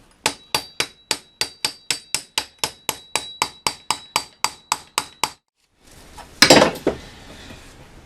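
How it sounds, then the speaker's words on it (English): Steel hammer strikes a chisel against old brickwork in a garage wall, about twenty sharp, evenly spaced metallic blows, close and loud, followed by a short pause and a scraping rattle of loosened material. "just go in with a normal chisel now and tidy up"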